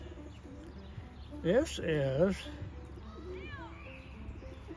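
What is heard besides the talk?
pigeon cooing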